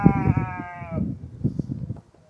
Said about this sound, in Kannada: ಇಲ್ಲೊಂದು ಕುರಿ ಐತಲ್ಲ